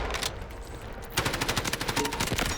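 Rapid automatic gunfire in the Delta Force video game, a sharp burst starting partway through and continuing as a steady rattling stream of shots, loud and close with no talking.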